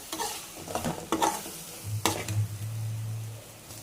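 Eggs stirred into capsicum masala in a pan bring a series of scraping spatula strokes over a soft sizzle, close and uneven, followed by a steady low hum from the stove.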